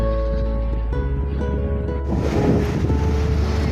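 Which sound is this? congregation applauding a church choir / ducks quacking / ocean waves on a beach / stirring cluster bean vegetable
ocean waves on a beach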